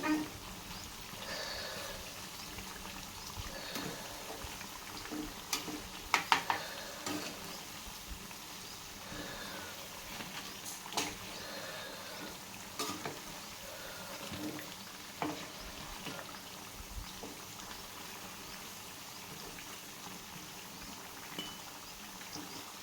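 Potato bajji pieces crackle and sizzle in hot oil in a steady, moderately close hiss, with occasional clicks and taps of a utensil stirring and moving the pieces.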